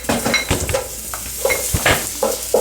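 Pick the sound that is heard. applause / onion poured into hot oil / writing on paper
onion poured into hot oil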